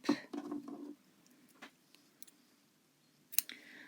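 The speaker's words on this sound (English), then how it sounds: "We're going to cut our yarn, pull that through the loop" Scissors snip through crochet yarn with a few soft close cuts at the start, then a quieter stretch and one sharp click near the end, with no talk.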